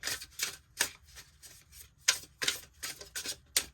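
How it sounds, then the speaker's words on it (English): Quick bursts of tarot card shuffling, crisp riffling and snapping sounds in a dozen short clusters, close and fairly quiet with no talking. "I'll do 2 more shuffles for you"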